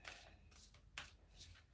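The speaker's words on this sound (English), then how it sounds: "Just gonna shuffle the cards." A deck of cards is shuffled in a few quick, faint riffling bursts during a card reading, with no voices.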